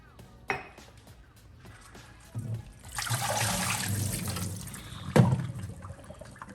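Water drains and trickles out of an orchid pot after a 30-minute fertilizer soak, starting with a short burst, then a steady splashing pour that swells midway with a sharp gush near the end.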